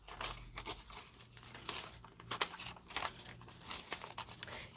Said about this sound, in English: I'm going to tear away from the tag.